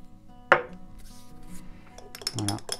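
Hair balm ingredients stirred in a container, a sharp clink at the start, then quiet scraping and a burst of rattling utensil taps near the end, close and fairly faint.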